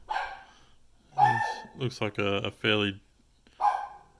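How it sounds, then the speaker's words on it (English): A dog barks in the background at a home where coins from a 50 cent roll are being examined, with a few sharp barks in a burst mid-clip under and between a man's speech. "Sorry about the dog barking like crazy."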